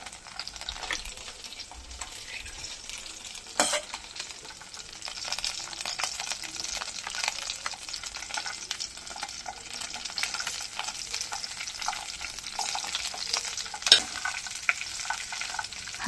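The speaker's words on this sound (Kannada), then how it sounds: "ಇಲ್ಲಿ ಸಾಸಿವೆ ಎಲ್ಲ ಚಿಟಪಟ ಸಿಡಿದ ಮೇಲೆ ಒಂದು ಸ್ವಲ್ಪ ಬೆಂದ ಮೇಲೆ ಕರಿಬೇವು ಹಾಕ್ಕೊತಾ ಇದ್ದೀನಿ" Mustard seeds, curry leaves and green chillies fry in hot oil, giving a steady close hiss with scattered pops and spatters and a couple of louder crackles, no voices.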